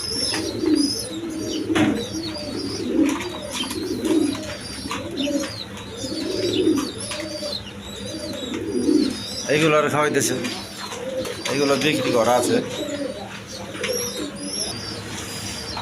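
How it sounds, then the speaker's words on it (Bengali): Domestic pigeons in a Bangladeshi pigeon loft, including a pair of Black Diamond Danish pigeons, coo in a steady rhythmic series of soft, low calls close by, with faint chirps and someone talking over them. "এখানে এক পেয়ার ডেনিস কবুতর আছে ব্ল্যাক ডায়মন্ড বলে যাকে"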